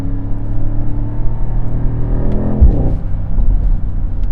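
Mercedes-AMG SL 63 with a V8 biturbo engine makes a rev-matched downshift: a loud, steady engine drone from inside the car, broken by a brief rising throttle blip partway through.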